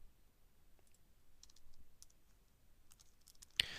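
A computer mouse is clicked a handful of times, faint and close, while editing HTML in WordPress, with soft scattered taps and one sharper click near the end.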